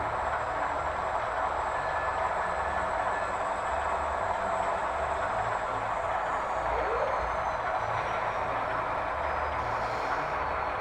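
A low, steady rumble of an HO scale model ES44AC locomotive from sound speakers drones throughout, with faint clicking and a soft background hiss.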